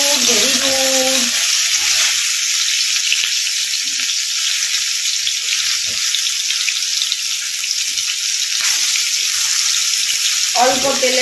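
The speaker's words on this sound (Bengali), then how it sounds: "তো চলো এগুলো ভেজে নিই এক এক করে।" Pakoras frying in a little oil give a steady close sizzle that runs through the whole stretch, with brief low kitchen sounds near the start and end.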